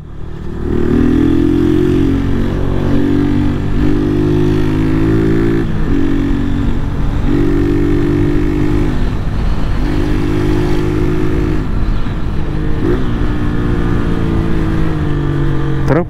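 A Honda Titan 160 motorcycle with a tin Polimet exhaust and no filter rides at a steady, loud pace, its engine droning with rising revs and brief dips at each gear change, running close and continuous throughout.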